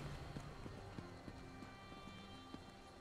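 A horse's hooves clip-clop at a steady galloping rhythm in Elder Scrolls Online, fairly quiet and regular throughout the short stretch.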